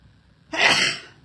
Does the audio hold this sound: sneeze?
yes